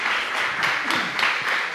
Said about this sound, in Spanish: Le damos un aplauso al Señor por su vida.